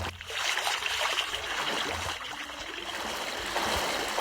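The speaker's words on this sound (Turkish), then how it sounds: "Ay şelale." A waterfall in the video game Minecraft gives a continuous rushing, splashing flow of water that stays fairly loud and even throughout, with no voices.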